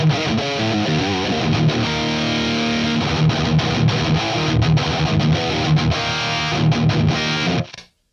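Metal guitar riffing through a Vic Audio Merciless Drive distortion pedal turned fully up, giving a thick, chuggy, heavily saturated tone that plays loud and steady for the whole stretch, then cuts off abruptly at the end.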